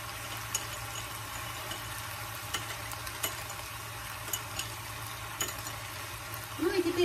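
A spoon stirring sugar into a sauce, soft repeated scraping and clinking taps against a bowl over a steady hissing background, fairly faint and without speech.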